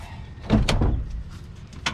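A Chevrolet Silverado pickup's door is opened, giving a close mechanical latch clunk followed by a short rattle and a later faint click, with no speech.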